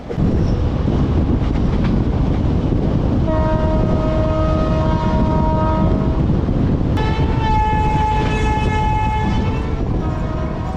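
The Ganadevata train running from Howrah to Bolpur, a loud steady roar of wheels on rails broken by two long, sustained horn blasts, the second sharper and closer.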